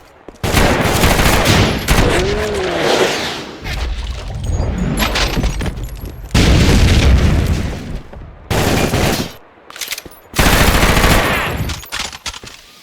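Heavy gunfire from the video game Max Payne 2 comes in loud, dense bursts and sustained rattling volleys, broken by brief pauses and booming impacts, with no voices over it.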